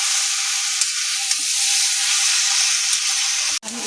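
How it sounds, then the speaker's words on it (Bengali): Cabbage is stirred through spices in a hot pan, giving a steady loud sizzle with a few soft scrapes and clicks of the spoon, and a brief drop in the sound near the end. "সমস্ত কিছু মশলার সাথে এখন বাঁধাকপিটাকে ভালো মতো করে মিশিয়ে নেব।"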